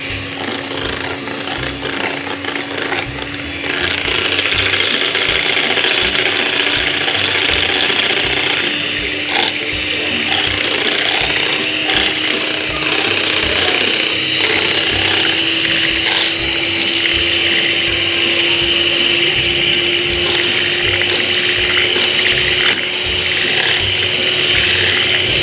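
A kitchen mixer whirs steadily while blending mango ice cream ingredients, with a loud, continuous motor drone and a slowly rising whine that runs uninterrupted for the whole stretch and no voices over it.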